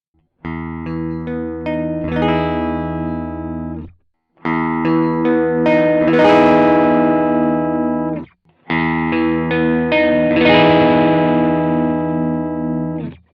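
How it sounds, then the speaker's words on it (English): Sustained electric guitar chords ring out in three passages, first clean and bright, then overdriven without cabinet simulation, then overdriven with Strymon Big Sky cabinet simulation, grittier with a harsher, fuzzier edge, with short gaps between. "the clean guitar signal on its own, then with the overdrive with no cab sim, and then the overdrive with cab sim"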